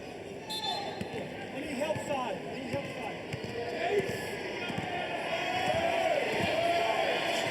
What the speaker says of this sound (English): Crowd trying to get into it, Darren.